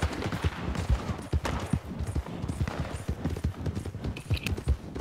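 Rhythmic horse hoofbeats in the video game Red Dead Redemption 2 clop along steadily at a trot, fairly close, with a few scattered sharper knocks mixed in and no talking.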